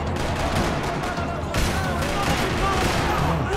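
Gunfire in the video game Max Payne 3 in a parking lot, dense rattling bursts of shots under a continuous game soundscape, loud and cluttered, with someone talking over it.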